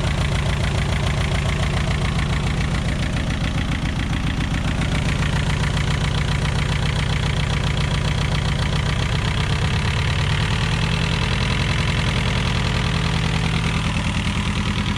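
A VW Scirocco MK2 with a converted ABF engine, freshly rebuilt carburettor and first started, idles loudly and steadily up close, its rhythmic throb shifting slightly partway through as the idle is adjusted.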